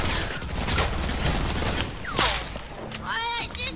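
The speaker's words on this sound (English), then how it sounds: "I just hit him with a sniper" Gunfire in a battle royale video game, a burst of sharp shots and mechanical clatter with loud game effects, heard under a player talking.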